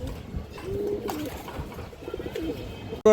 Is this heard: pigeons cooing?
yes